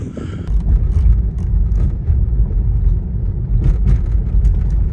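A massive special operations trailer (Marin County RTF1) rolls past at a raceway, a steady low vehicle rumble with engine drone that stays loud and close throughout, no talking.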